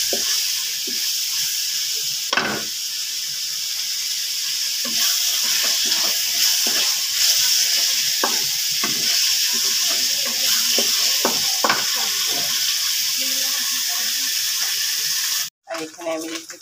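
Onion, garlic and ginger pastes with a few bay leaves fry in hot oil for a fish curry, a steady close sizzle with occasional stirring knocks, quiet talk now and then underneath.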